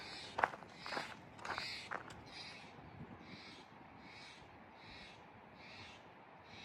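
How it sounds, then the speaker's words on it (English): A bird calls repeatedly at a distance along the Reverse 360 hiking trail at YMCA of the Rockies, with a few close footsteps scuffing at the start, then an evenly spaced series of faint calls. "some sort of bird over there."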